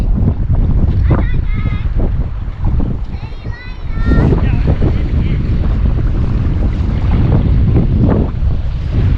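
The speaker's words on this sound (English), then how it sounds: "It's a little bit choppy, a bit windy" Wind buffets the microphone with a constant rumbling roar on a beach at South Lefroy near Coral Bay, with choppy water, and a few faint bird calls rise briefly above it.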